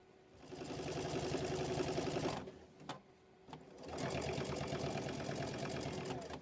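A sewing machine stitches a quilt binding in two close, steady runs of rapid mechanical whirring, separated by a brief pause with a few clicks.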